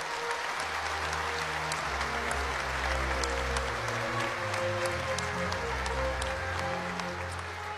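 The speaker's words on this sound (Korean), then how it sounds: "다시 한번 뜨거운 박수 부탁드립니다" Audience applause at the 80th Liberation Day ceremony at Sejong Center, honoring independence activists after a government awards presentation: a dense, steady roar of many hands clapping that holds at an even level throughout, with no talking.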